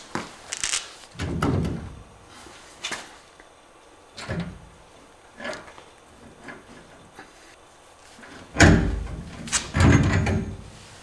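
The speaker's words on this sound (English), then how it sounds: "So now we're ready to pull the whole drum off." Brake drum worked loose and pulled off the rear axle of a 1998 Chevy K2500 with a GM 14-bolt axle, heard as scattered metallic clunks, scrapes and knocks close by, with quiet gaps between them.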